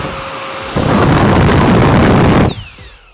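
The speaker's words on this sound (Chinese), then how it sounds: "今次同大家介绍咧，就是我手头上面呢支暴力空气炮" A powerful handheld air blower, sold as an air cannon for drying cars, barbecues and leaves, roars loudly up close with a steady jet-like rush that swells, then spins down to quiet.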